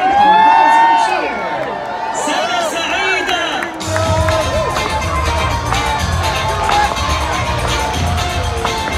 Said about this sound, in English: our friends in Morocco and the United Kingdom shouted a rousing cheer